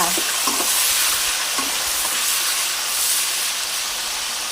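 Pork frying on a stove beside a pot of straw mushroom curry, a dense, even hiss of hot oil with a few faint clatters near the start.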